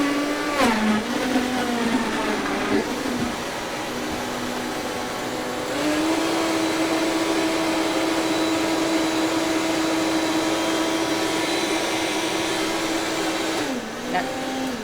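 A Vitamix blender runs at its highest speed, a loud continuous motor whine that dips briefly near the start, then holds a steady high drone for about ten seconds before slowing at the end.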